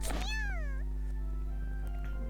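A cat in a video game lets out one clear, drawn-out meow with a wavering pitch, close and distinct, followed by quiet background hum and faint soft sounds.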